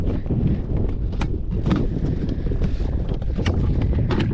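Strong wind buffets the microphone outdoors at a lakeside fishing spot, a steady loud rumbling roar with gusty flutter lasting throughout, no other clear sounds standing out.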